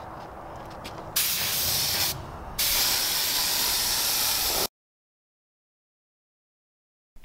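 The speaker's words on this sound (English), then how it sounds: "see how to use your sprayer to paint chalk paint" A paint sprayer spraying chalk paint hisses steadily in long bursts with a few brief pauses, loud and close, then cuts off into silence.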